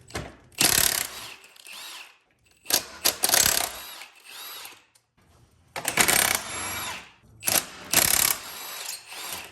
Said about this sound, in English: Start taking off our head bolts, which look to be